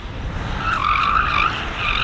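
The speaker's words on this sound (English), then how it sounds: "As you negotiate the turn, those tires are going to slightly squeal." Car tires squeal in wavering high-pitched bursts over a low engine rumble, rising and falling through a turn.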